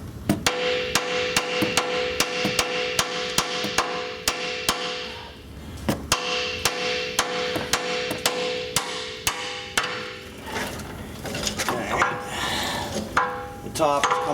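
Sharp hammer whacks strike a ball joint on a Ford F350 4WD front end, a rapid run of loud metallic blows with a brief pause and a second volley, ringing steel echoing in a garage.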